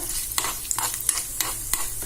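Chana dal and cumin seeds tempering in hot oil in a pan for curd rice, a steady close sizzle broken by regular scraping stirs about every third of a second.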